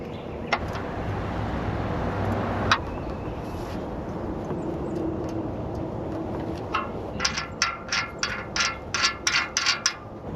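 A ratchet clicks in quick repeated bursts while fittings against O-rings are snugged on a Silverado truck's aluminum radiator, close mechanical clatter over a low background hum, with a few single knocks earlier.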